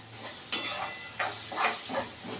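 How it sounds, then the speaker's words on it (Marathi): Ginger garlic paste sautéing in a pan on low gas for paneer masala, a soft sizzle under a few spoon stirs and scrapes against the pan, close and moderately loud. "आता चांगलं परतून घ्यायचं आलं लसूण पेस्ट"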